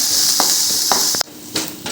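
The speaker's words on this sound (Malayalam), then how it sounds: "ചെറിയുള്ളിയും ഇട്ട് കൊടുക്കുന്നുണ്ട് ഇനി ഇതും ഇതേപോലെ ബ്രൗൺ കളർ ആകുന്നത് വരെ വറുത്തെടുക്കാം" Chopped shallots frying over low heat in a pan until browned, giving a steady soft sizzle with a few brief stirring scrapes, close and moderately loud.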